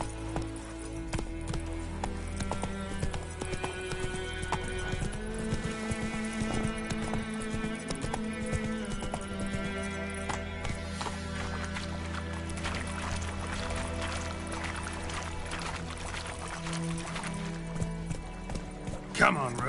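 Roach the horse galloping in The Witcher video game, with rapid clip-clop hoofbeats running throughout under a dense music score and occasional spoken lines.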